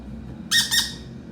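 A baby parrot gives two quick, shrill squawks close by, the second following right after the first, over a low background hum.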